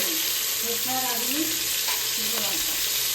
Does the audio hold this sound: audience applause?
no